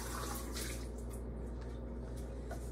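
Tap water runs steadily into a lab sink while glassware is rinsed out after a stoichiometry trial, a continuous close splashing wash with small drips and clinks and no talk.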